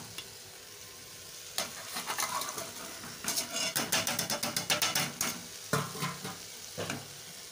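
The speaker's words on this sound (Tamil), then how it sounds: "இதையும் நல்லா வதக்கிக்கோங்க." Crushed ginger, garlic, pepper and cumin sauté with tomato and onion in a pan for tomato soup, a steady sizzle under quick repeated scraping and stirring strokes up close.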